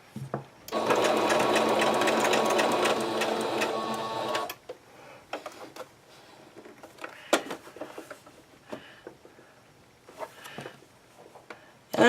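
Sewing machine stitching grosgrain ribbon for a key fob, a loud close steady buzzing run of about four seconds, then quieter sparse clicks and handling sounds.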